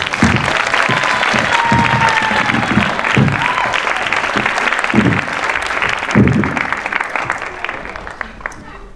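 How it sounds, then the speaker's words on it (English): A large audience at the Pandava Sena 25th anniversary event gives a sustained round of applause, dense clapping that stays loud across the whole stretch before thinning slightly near the end. "Can we have another massive round of applause to him?"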